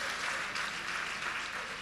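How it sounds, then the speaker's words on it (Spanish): Audience applause at a comedy gala, steady moderate clapping from a full house, fairly distant and unbroken with no talk over it. "Aplaudí si queráis, siempre."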